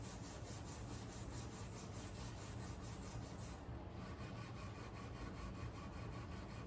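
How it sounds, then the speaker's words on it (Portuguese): Acoustic guitar frets are polished by rubbing back and forth along the fretboard, a faint, even scraping with a regular stroke rhythm heard close and alone, broken by a short pause partway through. "O objetivo aqui é só polir, tirar o máximo de micro ranhuras que a gente puder."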